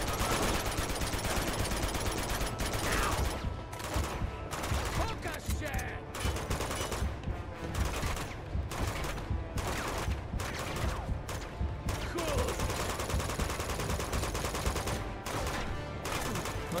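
Gunfire rattles in dense bursts through Uncharted 2, with repeated shots and fusillades over a constant loud game soundtrack for most of the clip.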